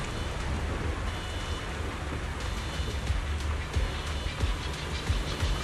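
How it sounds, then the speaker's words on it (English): Heavy rain falls in the Zenless Zone Zero game, a steady dense hiss with low rumbling underneath and no voices. "It wasn't heavy rain like now"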